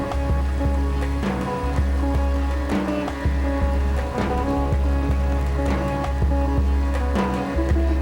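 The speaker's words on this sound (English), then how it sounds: "The rains have come. The downpour will activate the food chain" Steady heavy monsoon rain pours down in a dense, continuous wash, with irregular thumps and splashes over a low rumbling bed of sound.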